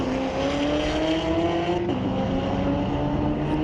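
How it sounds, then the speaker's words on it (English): A 2016 Corvette racing down a drag strip, loud steady engine roar climbing in pitch with a quick gear change midway, close and continuous. "The 2016 Corvette. Man, that sounds good."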